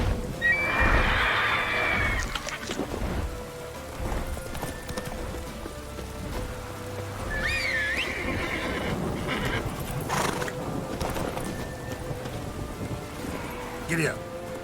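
A horse in the video game Witcher 3 whinnies loudly near the start and again midway, over steady clip-clop hooves at a gallop, with game voices speaking over parts of the clip.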